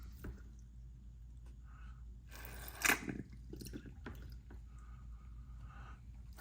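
Water is added with a squeeze dropper in a toy lab kit: a few soft squishes and drips, with one louder squeeze near the middle, close and quiet.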